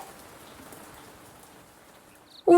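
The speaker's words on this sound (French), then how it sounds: "Maintenant, il fait tout gris et Lily danse sous la pluie." Steady light rain patters evenly on a surface as a storybook sound effect, a soft continuous hiss of drops that ends abruptly in a brief louder burst.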